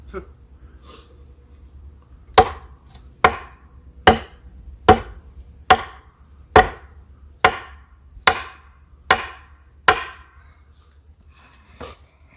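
A knife chopping into wood bark, about eleven sharp, evenly spaced strikes close by with quiet breathing between blows.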